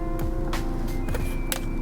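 A coconut water bottle cap snapped open inside a car, giving a few sharp, separate clicks over the steady low hum of the vehicle cabin, with no talking.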